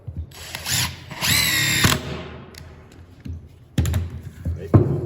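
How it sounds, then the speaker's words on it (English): An impact driver whirs and rattles in bursts, spinning a screw into softwood with a rising buzz, with short pauses and clunks between runs. "I prefer to use the impact when putting in screws"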